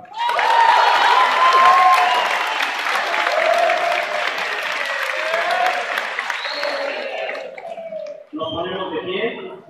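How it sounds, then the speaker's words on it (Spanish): Loud applause with cheering and shouting voices for the participants at the close of the 2013 youth expression contest, a strong steady roar that cuts off near the end into a brief burst of crowd voices. "Un fuerte aplauso para ustedes que participaron."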